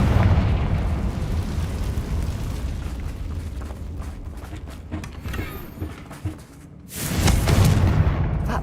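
A Confringo fire spell blasts in Hogwarts Legacy, a rolling explosive rumble with crackling debris that eases off, then a second sharp boom near the end.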